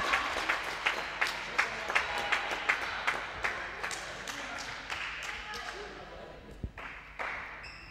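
Applause and clapping from a crowd at a floorball match between ESV Schwerin and VfK 01 Berlin after a goal, with sharp claps and thuds over a steady din and some voices.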